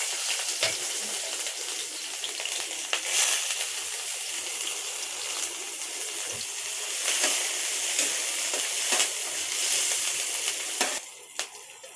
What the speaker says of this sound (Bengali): এই তেলে আমি ক্যাপসিকামগুলোকে ভেজে নেব।